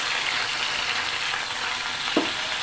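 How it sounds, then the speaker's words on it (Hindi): Potatoes frying in a pan with turmeric, a steady dense sizzling hiss close up, with one brief knock of a utensil near the end. "अब इस स्टेज पे हल्दी डालने के बाद मैं इसके अंदर आलू ऐड कर दूँगी"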